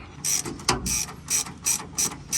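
A ratchet cranks out a seized, rust-penetrant-soaked rear bumper bolt on a car, giving repeated bursts of close, loud metallic clicking in an uneven rhythm of about six strokes.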